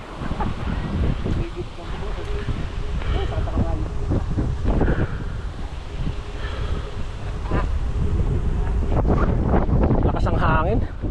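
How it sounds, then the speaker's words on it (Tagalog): Strong wind buffets the microphone on a coastal outing in Mindoro, a loud continuous rumbling roar with possible waves or a boat beneath it and voices talking intermittently. "Lakas ang hangin."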